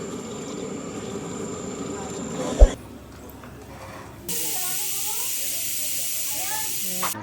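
A pressure cooker on a wood-fired stove, cooking goat head curry, releases a loud, steady hiss of steam that cuts in sharply and holds for several seconds after a brief quieter stretch and a single thump.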